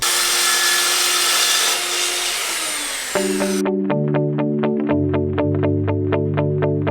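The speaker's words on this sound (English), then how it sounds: "you can just run the saw blade into the styrofoam and you're not gonna hurt anything" Saw cutting a thin 1/8 inch panel laid over styrofoam, a harsh, close buzzing cut that ends after about three seconds, followed by a regular series of bright tonal pulses.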